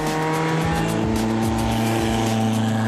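A 1966 Matra Djet 6 sports car, originally conceived for Le Mans racing, revs with a loud, raspy engine note that climbs and falls in repeated gear-like sweeps close by, with no voices.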